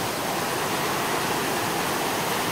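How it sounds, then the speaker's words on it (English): Swollen, muddy brown river rushing hard after heavy rain near Hilo, Hawaii, a dense, steady roar of water with no breaks. "The river, as you can see from the depression, is just going crazy today."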